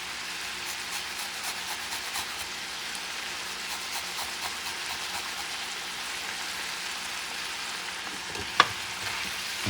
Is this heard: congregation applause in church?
no